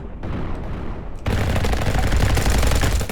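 Gunfire in a Roblox game styled after Call of Duty: quieter shooting at first, then a sudden burst into loud, continuous rapid fire that keeps going to the end.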